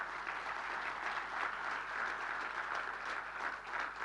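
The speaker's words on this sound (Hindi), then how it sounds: "ताली मार रहे हैं, जोर से मारिए आप ये।" Audience clapping during a talk by a former army officer, a steady even wash of many hands heard at a distance, fairly faint and unbroken throughout.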